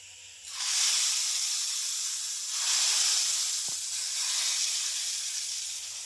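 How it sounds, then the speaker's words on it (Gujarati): Hot ghee tempering with mustard seeds and chillies hits a chutney and bursts into a loud, close sizzle that hisses steadily for several seconds, swelling and easing in waves. "હવે આપણે એ તડકો નાખવાનો છે આ ચટણીમાં."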